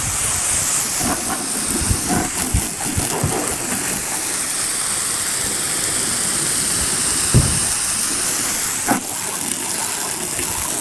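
A hose sprays water steadily across a house roof beneath pine trees, making a continuous broad hiss with a few scattered thumps and knocks throughout.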